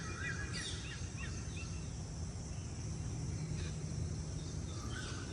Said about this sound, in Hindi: सारे पक्षियों की आवाज़, मोरों की आवाज़ बहुत अच्छी लगती है